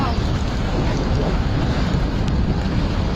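Strong storm winds roar across the port of Siracusa, a loud, continuous gusting rush with wind buffeting the microphone and choppy water sloshing beneath.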